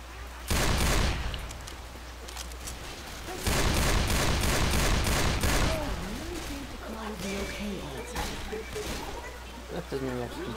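Rapid bursts of gunfire from the video game Left 4 Dead 2 crackle loudly in heavy volleys with short gaps between them, while players talk over the shooting throughout.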